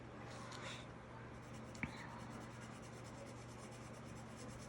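Soft, repeated scratchy strokes of colored pencil shading on paper, close and quiet, in a quick rhythmic pattern over a faint steady hum.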